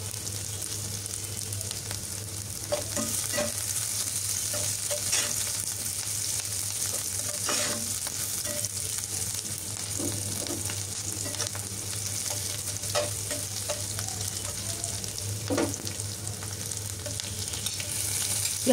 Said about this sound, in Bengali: এই তো পেঁয়াজগুলো আমি ভেজে নিচ্ছি।